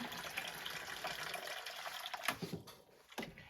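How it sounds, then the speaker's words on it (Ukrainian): Hot water from a kettle pours in a steady trickling stream that thins and breaks into a few splashes and drips toward the end. "Наливаємо трішечки гарячої води."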